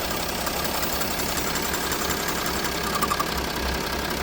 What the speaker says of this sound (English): So it's got a vacuum leak from the engine mount.